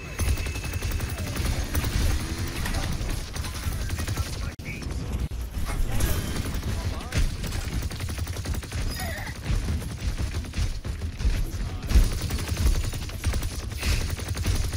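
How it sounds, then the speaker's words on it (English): Turret gunfire in a team-based online video game, heard as dense, continuous mechanical firing and clattering that fills the whole stretch at a steady, loud level with sharper bursts scattered throughout. "Why is the fucking turret hitting me?"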